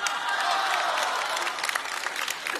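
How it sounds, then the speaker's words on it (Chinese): A theatre audience at a Deyunshe crosstalk comedy show claps warmly to welcome a performer, a dense wash of many hands that starts strong and slowly thins into scattered claps. "我建议我们台上台下所有的朋友们用热烈掌声欢迎栾云平给大伙演一个"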